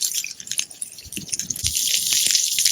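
A steady, hissing sizzle of food frying in smoked oil in a pan on a barbecue, with scattered crackles and pops, close by and without talk.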